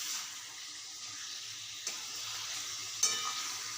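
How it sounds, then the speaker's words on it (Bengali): Marinated chicken spits quietly in oil in a pan, a soft continuous sizzle with two sharp knocks as a spatula turns the pieces; no speech. "ম্যারিনেট করা মাংসটা দিয়ে দেব তেলের ওপরে। ভালো করে এপিট ওপিট খুন্তি দিয়ে নেড়ে নেব।"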